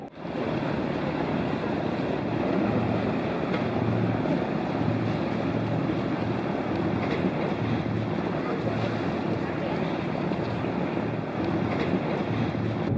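Canal tour boat cruising through Nyhavn in Copenhagen, a constant low engine rumble with wind buffeting the microphone and faint water wash, loud and unbroken throughout.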